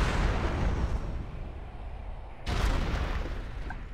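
Heavy, booming bolt pistol fire from Warhammer 40,000: Space Marine, loud, dense, rumbling bursts filling the clip, with a sharp fresh blast about halfway through.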